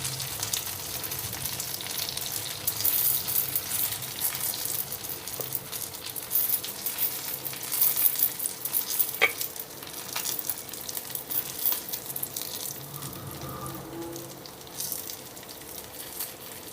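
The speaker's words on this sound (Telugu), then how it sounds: "ఇప్పుడు మన వంకాయలు అయితే నైంటీ పర్సెంట్ ఫ్రై అయినాయి" Eggplants fry in a pan with masala powder, a continuous close sizzle and crackle with occasional stirring knocks throughout.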